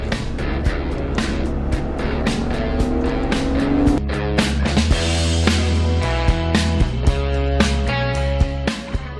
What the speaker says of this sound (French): ما نسمعوا كان les accélérations تاع ال V6